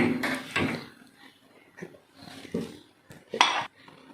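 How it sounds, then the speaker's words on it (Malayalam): A pressure cooker is closed and set down on a gas stove, giving several clanks and knocks of metal on metal that come close and fairly loud, spaced across the moment with quieter rattles between them. "നമ്മുടെ കുക്കർ അടച്ച് നമ്മൾ ഗ്യാസിലോട്ട് വെച്ച് കൊടുക്കുകയാണ്."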